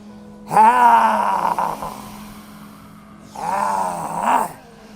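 Two long, throaty roaring exhalations from a person imitating a lion during simhasana yoga breathing, each rising and falling, separated by a short pause.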